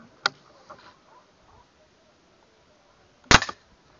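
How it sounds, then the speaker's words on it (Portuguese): Two sharp shots at a target while hunting, a faint crack then a louder close snap a few seconds later, in a quiet outdoor setting with no talk. "Próximo tiro, mais um."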